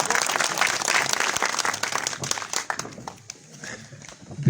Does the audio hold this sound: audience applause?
yes